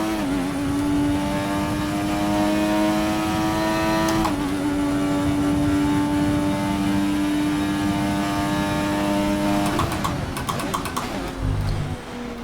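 Simulated Formula 1 race car engine in F1 2020, a loud continuous high-pitched whine that holds steady, drops abruptly at two gear shifts, then climbs again, with a rough burst near the end.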